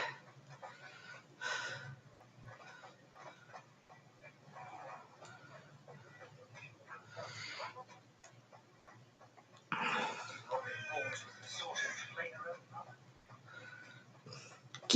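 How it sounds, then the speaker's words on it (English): Geese honk in scattered bursts within the Hogwarts Legacy game world, faint calls over quiet ambience while a player talks intermittently. "Geese."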